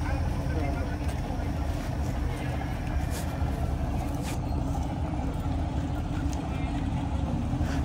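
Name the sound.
boat engine struggling to power up and engage reverse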